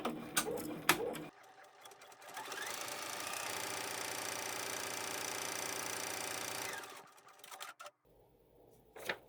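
An embroidery sewing machine stitches a skeleton-in-the-library block design, its steady rapid needle chatter running loud and close for several seconds between quieter clicks and handling noises.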